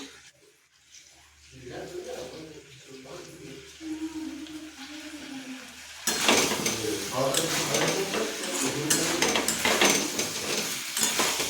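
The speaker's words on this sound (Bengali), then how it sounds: "এইভাবে ভালোভাবে আমি কষে দিচ্ছি" Meat is stirred and sautéed in a pan as kosha, with a spatula scraping and the food sizzling throughout. Someone talks over the first half, and the frying grows louder and more crackling toward the end.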